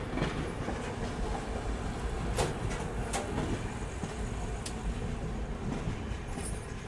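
The 12771 Raipur SF Express rolling out of Secunderabad, a steady rumbling train run with wheel clatter and several sharp metallic clacks, heard alone without talk.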